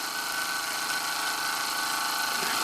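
An old Ernest Plank upright steam engine runs close by with a loud, steady mechanical hum and rapid, even chugging throughout.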